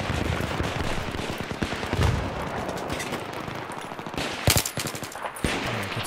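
Sustained machine gun fire in the Battlefield 3 video game, with dense rapid bursts running throughout and a few heavier blasts and gunshots near the end.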